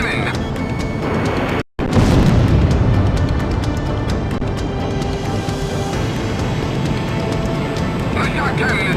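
A shock cannon fires amid repeated explosions during an aerial battle in the Ace Combat X flight game, with dense, continuous booming and roaring rumble, a brief drop to silence near the start, then a heavy blast.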